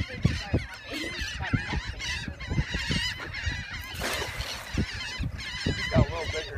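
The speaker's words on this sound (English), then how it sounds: "That's a big bird" A big bird honking like a goose on the South Carolina shore, giving loud, close, repeated honks in an irregular series that carries on throughout.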